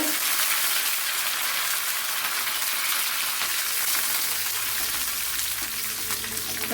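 Dried red chilies and curry leaves frying in hot oil for a Kerala-style cucumber pachadi, a steady loud sizzle and crackle that runs unbroken throughout with no talking.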